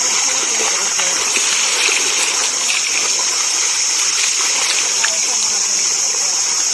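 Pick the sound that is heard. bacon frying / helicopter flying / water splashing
water splashing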